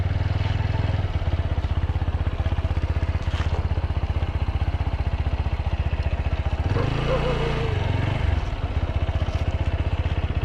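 A motorcycle engine in low gear thumps in a fast, even rhythm close by, then surges into a harder rev for a second or two before dropping back to its steady chug.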